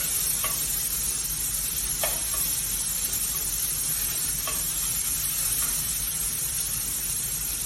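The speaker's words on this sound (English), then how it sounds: "breaking it up, cooking it quickly, medium-high heat, at least medium-high heat here." Shaved steak frying in a pan over medium-high heat, a steady wash of sizzle with occasional sharp ticks and scrapes as the meat is stirred and broken up, no talking.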